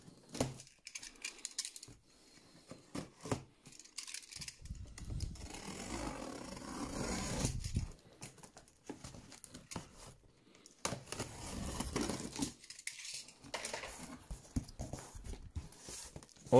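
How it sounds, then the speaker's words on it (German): A large parcel containing an H0-scale Hamburg DT2.5 subway model is unpacked carefully, with irregular close crinkling, rustling and tearing of packing material in bursts separated by short pauses. "Großes Päckchen vorsichtig auspacken."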